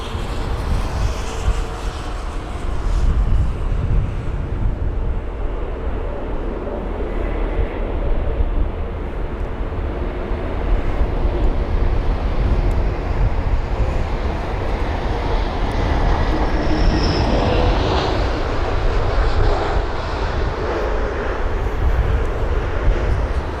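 Turkish Airlines jet on flight TK1989 from Istanbul arriving at London Heathrow, a loud sustained engine roar and rumble that swells and holds for over twenty seconds without talk.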